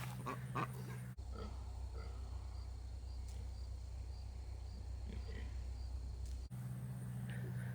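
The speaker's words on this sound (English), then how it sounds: "Sorry I was so rudely interrupted by the pigs." Pigs on a farm pasture grunt in short, low bursts close by, over a steady outdoor drone of insects; a voice talks briefly at the start and the end.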